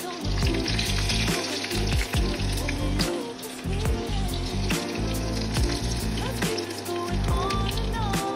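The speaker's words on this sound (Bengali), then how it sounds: "এবার মাছগুলোকে তেলে রাখবো।" Pieces of katla fish sizzle and crackle loudly in hot oil in a pan, a dense, continuous frying hiss with bubbling pops, close and steady throughout with no voices.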